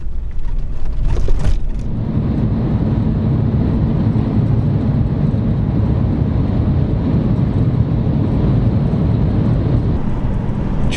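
A Jeep on the gravel Trans-Labrador Highway rolls past with a continuous broad road roar and low rumble, loud and close, the steady tire and suspension noise holding for the whole stretch.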